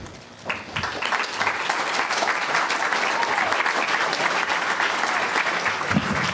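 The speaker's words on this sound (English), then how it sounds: "Could you give him one more round of applause?" An audience applauds steadily after a keynote presentation at a games conference, a broad wash of clapping heard from inside the hall at moderate level, with faint crowd murmur beneath.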